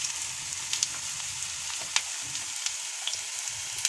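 Onion and gram-flour pakoras crackle in hot oil, a soft, continuous frying hiss dotted with small sharp pops, moderately quiet and close, with no talking.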